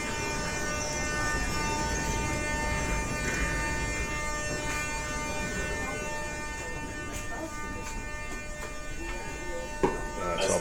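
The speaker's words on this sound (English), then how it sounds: "So I'll get on the train, it's only for one stop." Moscow metro train running between stations for a single stop, a steady loud rumble with whining electrical tones throughout and a brief clank near the end.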